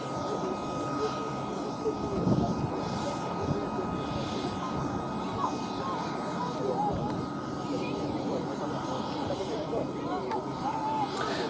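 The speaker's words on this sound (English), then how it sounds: "we've now seen that the aircraft have separated slightly" Aerobatic aircraft performing at the Duxford air festival give a steady, distant engine drone across the airfield, with a commentator talking continuously over it.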